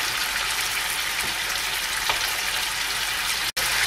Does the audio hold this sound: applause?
no